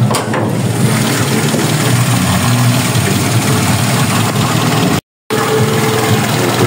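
A 1994 Nissan Sentra engine idles close by, a loud steady low throb that holds evenly throughout and drops out briefly near the end.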